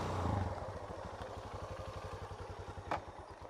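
A motorcycle engine idles nearby with a quick, even low-pitched putter and faint mechanical clatter, fairly quiet and steady, with one brief sharp knock partway through.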